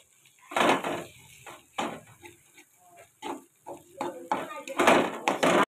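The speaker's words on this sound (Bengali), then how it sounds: "দেখো আমি এইভাবে নাড়তে থাকলাম।" A spatula stirs khesari (grass pea) greens in a pan, giving repeated scraping and clattering strokes in uneven bursts, close and fairly loud, with short pauses between.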